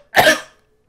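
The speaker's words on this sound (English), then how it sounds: "I keep coughing" A single sharp cough, close and loud, with a quick decay into silence.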